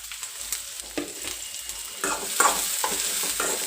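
Chopped onion fries in hot oil in a pan, a steady sizzle broken by regular stirring scrapes and clatters, close and fairly loud with no talking.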